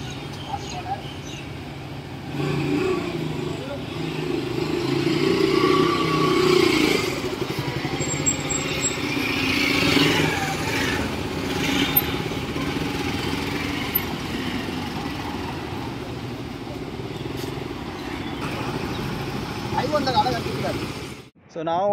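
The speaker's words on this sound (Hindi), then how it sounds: "ये हमारी पहली बाइक निकलती हुई" Motorcycles set off one after another at the start of a ride from Pathankot toward Srinagar and Ladakh, with engines revving and pulling away at close range under steady talk.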